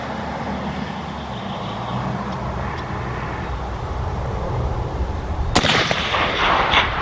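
A single loud rifle shot cracks out at about 5.5 seconds during a deer hunt near Whanganui, rising sharply out of steady outdoor background noise and trailing off into a brief echo, with no talk.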